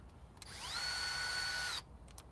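A Snap-on power tool whirs up quickly and holds a steady high-pitched whine for just over a second before spinning down, fairly quiet against faint background noise.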